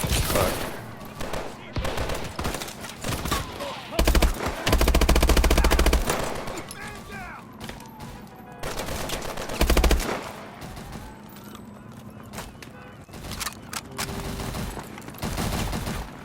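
Heavy automatic gunfire in Call of Duty: Advanced Warfare, loud sustained machine-gun bursts and rattling volleys broken by brief pauses, with some voices under the shooting.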